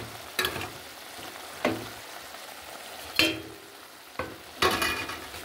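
Pieces of fish go into a hot pan, and a low, steady frying hiss runs throughout. Five separate bursts of clatter and spitting sizzle mark each addition or stir.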